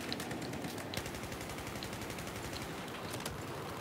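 Rapid automatic gunfire in the shooter game Battlefield 4 on Operation Locker, a dense steady rattle of shots from an M416 and other rifles, faint and continuous.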